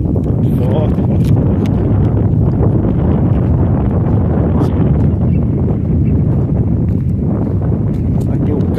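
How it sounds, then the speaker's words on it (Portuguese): Strong wind buffets the microphone outdoors in the dry backcountry of Pernambuco, Brazil, making a loud, constant low rumble that swamps the recording. "Vento forte, rapaz."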